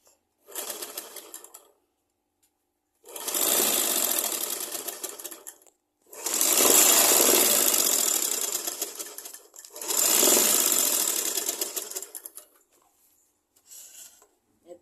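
Sewing machine stitching the body of a blouse, running in four bursts of steady rapid whirring with short pauses between, loud and close with no talk.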